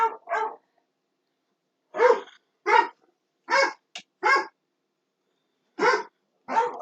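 Three neighbor's dogs bark frantically in short, sharp outbursts, roughly nine barks in uneven clusters separated by stretches of silence, fairly close and clear.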